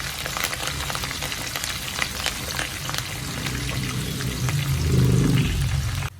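Garlic and chopped green chillies fry steadily in oil for mango pickle, a continuous close sizzle with scattered pops that swells slightly louder toward the end before cutting off.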